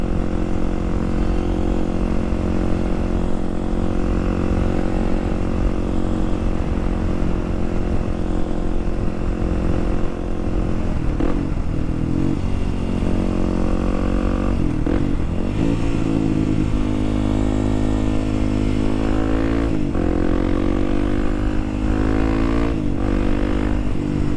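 A motorcycle engine drones steadily while downshifting with rev matching, with several sharp blips of revving rising and falling as gears change, loud and close, with no talk.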